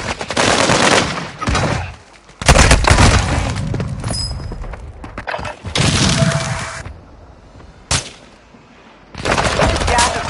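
Video game gunfire in a battle-royale match, loud bursts of shots in several clusters separated by short gaps, with a sharp single crack near the end, sometimes under game voice lines.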